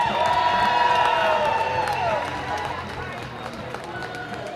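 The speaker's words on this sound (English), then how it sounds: "Give him a round of applause tonight, you guys." A crowd at an ice hockey game cheers and shouts loudly, with scattered clapping and whoops that gradually fade toward the end.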